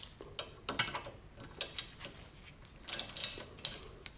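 10mm socket wrench ratcheting on a Mazda Miata MX-5 rear brake caliper, with quiet, irregular clicks in short close bursts over low background noise.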